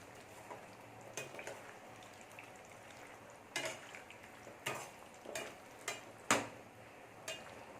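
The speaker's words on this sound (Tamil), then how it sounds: "நல்லா கொதிக்கட்டும் மெதுவாக கிளறி விட்டுக்கோங்க" Quiet gentle sizzling of masala gravy simmering in a pan for masala kozhukattai, with a few soft scraping and clinking strokes of a spoon stirring, spaced irregularly, no talking.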